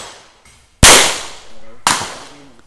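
Two sharp, loud gunshots crack at a firing range in Lipa, Batangas, about a second apart, each followed by a ringing decay, with a person speaking briefly in between.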